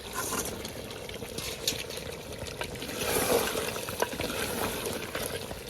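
Water is poured into a handi pot of mutton curry, a soft, close trickling and splashing that swells briefly midway, with no talk over it.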